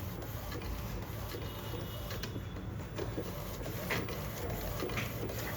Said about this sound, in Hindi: उसमें प्रिंट शुरू हो चुका है।